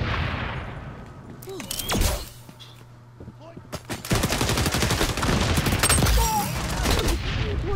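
Gunfire in the shooter XDefiant, sharp bursts of close shots in quick clusters with brief lulls, over game effects and someone talking.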